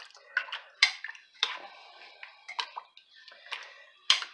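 A spoon clinks and scrapes against a pot while stirring chicken cream corn chowder, a quiet, irregular series of light metallic taps and scrapes with pauses between, no voices.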